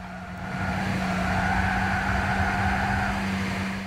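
Tire squeal in the racing video game Gran Turismo 6, a steady sustained screech over a continuous engine drone, loud and unbroken for several seconds without any voices.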